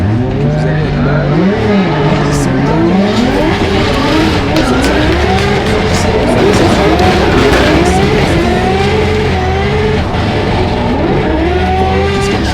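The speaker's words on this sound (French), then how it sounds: "Qu'est-ce qu'elle chante sa voiture sur ce diesel là?" A diesel race car screams up a hill climb at night, its engine revving hard with rising and falling pitch and tires squealing between bursts, loud and close with a commentator talking over it.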